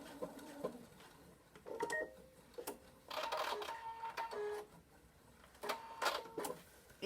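A sewing machine stitches a backstitch on a fabric mask in short, quiet bursts of mechanical whirring and clicking, pausing and restarting, heard close up in a calm room.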